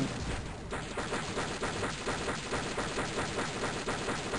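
Rapid gunfire from the 1998 Windows tank combat game S.C.A.R.A.B. by Electronic Arts, a dense continuous volley of shots rattling steadily for several seconds with no voices over it.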